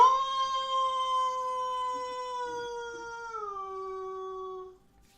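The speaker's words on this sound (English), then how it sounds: "a piercing howl cuts through the conversation" A piercing, wolf-like howl rings out as a sound effect in a fantasy tabletop game. It is a single sustained tone that holds steady, then slides down in pitch before cutting off, with no talk over it.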